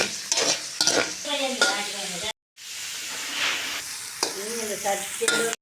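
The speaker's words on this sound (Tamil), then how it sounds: "அடுத்ததாக வெங்காயமும் கருவேப்பிலையும் எண்ணெயில் போட்டுக்கணும் நல்லா வதங்கி வர" Onions and curry leaves frying in hot oil, a steady sizzle with a spoon repeatedly stirring and scraping the pan, close up, with a short gap of silence partway through.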